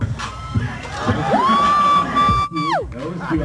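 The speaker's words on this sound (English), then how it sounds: "You got applause on this one right here, right?" Crowd at a basketball dunk contest cheering and shouting, a loud sustained roar with a rising whoop that holds for over a second before dropping, over continuous crowd noise.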